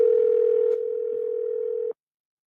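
A steady telephone tone hums while a call is being placed, one continuous note that shifts slightly partway through and then cuts off abruptly, loud and close with no talking.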